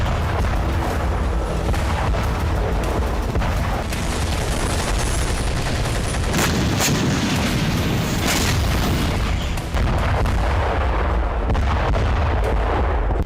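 Russian rockets strike Ukrainian artillery on the banks of the Dnipro, making loud, dense, rolling blasts and booms that run together without a break, heavy and distorted throughout.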